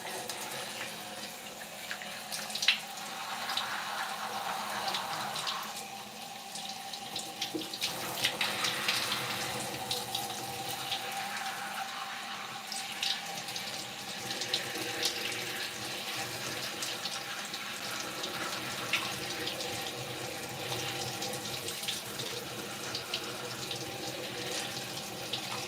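Tap water runs steadily and splashes as hair is rinsed after a second shampoo, a continuous close hiss with shifting spatter that changes as the hair moves under the stream.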